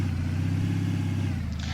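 A vehicle engine in the video game Lumberjack Simulator, a loud, steady low droning hum with a rhythmic pulsing growl as it drives at speed.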